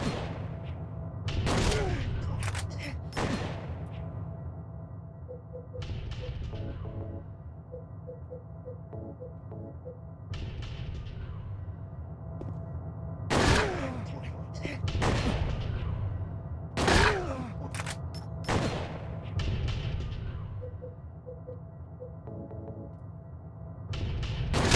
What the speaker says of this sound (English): Oh, he's gonna fire at me.